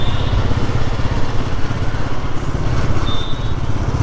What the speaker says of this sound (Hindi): रॉयल एनफील्ड का मीटियोर 350 और उसके साथ जा रहा है एक एक्टिवा 125 सीसी।